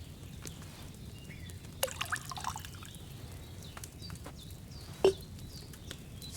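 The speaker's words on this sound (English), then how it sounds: "First, you have to pour the right base into the cauldron." Wine trickles and drips from a pitcher into a cauldron in the video game Kingdom Come: Deliverance 2, a soft steady dribble with a few sharper splashes over a low background hum.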